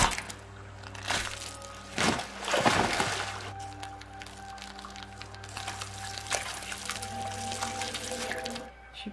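Water poured in a tense TV drama scene, a soft trickling pour with drips and splashes over a low steady hum and faint background sounds, fairly quiet throughout with no talk.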